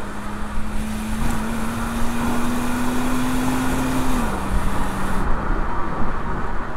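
A BMW E90 328i inline-six engine running smoothly and quietly, a steady close hum with a faint tone that rises slightly and then drops before easing off, heard alone without talk.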